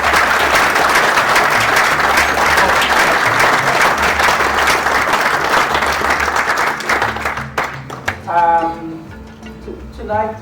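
An audience at a WFTF field target championship in South Africa claps loudly and continuously for several seconds. The applause fades toward the end as a voice begins speaking.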